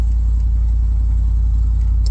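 An Acura Integra, restored after being in pieces, idles with a loud, steady low rumble and an even pulsing beat, heard up close and with no one talking.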